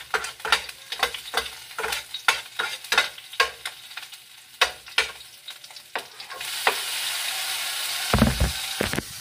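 Onion and tomato sautéed in a pan: a spatula stirs with repeated sharp scrapes and clacks in a loose rhythm, then a strong steady sizzle swells as the vegetables fry, close and fairly quiet overall.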